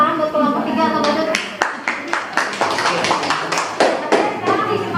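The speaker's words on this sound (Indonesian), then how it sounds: "Tepuk tangan buat kelompok 3 atau badut." Classmates in an Islamic studies lesson clap for a student group, a short burst of quick, uneven hand claps mixed with children's voices and chatter in a classroom.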